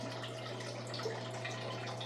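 Water pouring from a garden hose into a bucket indoors during a vinyl floor paint-removal job, a steady faint splashing rush with a low constant hum underneath.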